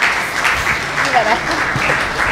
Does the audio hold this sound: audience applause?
yes